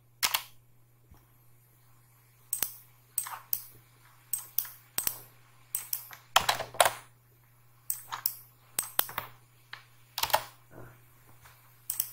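Computer keyboard shortcut keys are tapped during CorelDraw design work: sparse bursts of crisp, close plastic clicks, in pairs and small clusters, separated by quiet gaps over a faint low electrical hum.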